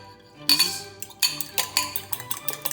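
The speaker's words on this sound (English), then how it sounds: "I'm going to just beat the egg" A utensil whisks a raw egg in a bowl, with quick, repeated clinking strokes in a steady rhythm, close and clear.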